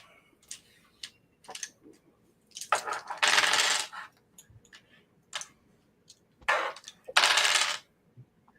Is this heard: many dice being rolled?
yes